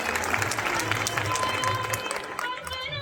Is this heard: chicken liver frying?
no